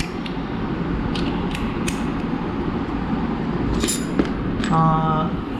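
A 3/8-inch ratchet clicks in a tool collection, with a few sharp, irregular mechanical clicks and creaks at close range and a voice talking alongside.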